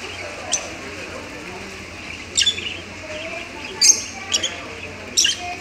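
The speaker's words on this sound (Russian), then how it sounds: "Вот птички, смотри." Small pet birds in a pet shop give several short, bright chirps in scattered bursts, heard over a low, steady indoor hum.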